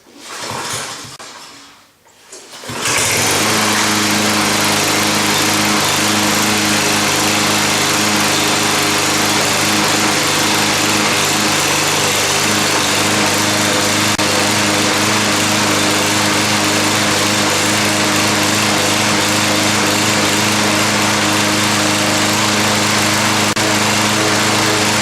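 A Cub Cadet push mower engine fires up after a drive belt replacement, catching after a short quiet pause and then running steadily and loudly nearby with a constant buzzing drone.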